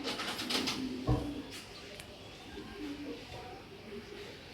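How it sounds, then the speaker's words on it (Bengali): Low cooing from racer pigeons in a loft runs faintly throughout, with a brief burst of handling noise and a thump near the start and a voice speaking briefly over it. "জিনিস দেখেন ভাই, কবুতর দেখেন, এক কথার অসাধারণ বডি"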